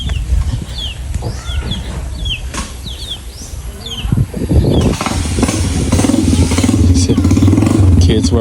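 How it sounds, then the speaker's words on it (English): A motorcycle or scooter engine rises from a low hum to a loud, close drone as it passes along a rural road in a Philippine province, with chirping birds and a voice audible beforehand. "Kids riding scooters, or motorcycles."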